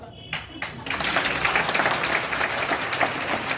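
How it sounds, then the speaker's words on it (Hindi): An audience at a DXN seminar in Deoria breaks into sustained applause, dense clapping filling the hall after a few scattered opening claps. "समझ के आप लोग ताली बजाए हैं"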